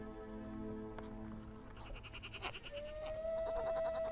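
A newborn feral goat kid bleats in high, wavering cries, with a thin sustained tone rising near the end over faint outdoor background noise, in the limestone Burren of Ireland.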